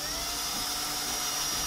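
A small drill bores out screw holes in plastic to 2.6 millimeters for M3 screws on an IKEA ROTERA LED light, a steady close high-pitched whine held for a short burst.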